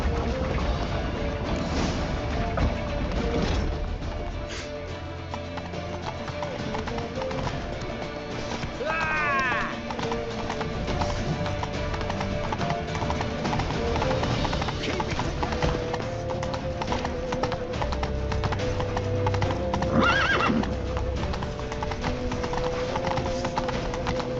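A horse gallops in The Witcher 3, with rhythmic hoofbeats running throughout, a brief whinny, occasional crashes and game sounds layered over the clatter.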